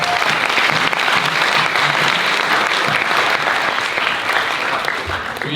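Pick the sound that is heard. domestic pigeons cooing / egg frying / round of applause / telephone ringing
round of applause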